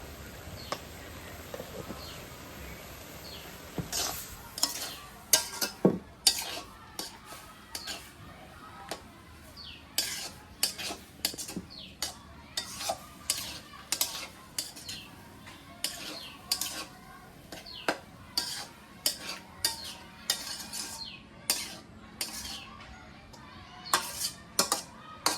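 A metal spoon scrapes and clinks against a pan while chopped onion and turmeric are stirred, giving irregular knocks and scrapes over a quiet sizzle, with birdsong faint in the background of a village kitchen.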